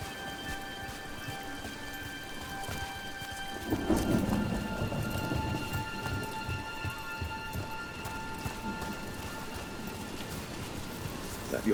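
Steady rain patters down in Dragon Age: The Veilguard, with a low rumble of thunder rolling in partway through and then settling back into the continuous downpour.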